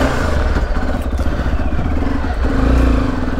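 A motorcycle, an Xpulse bike, rides off with a steady, loud engine drone and low rumble, plus some rattling clatter, continuous for a few seconds with no talk.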